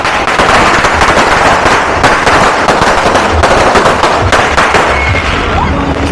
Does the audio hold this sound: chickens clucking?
no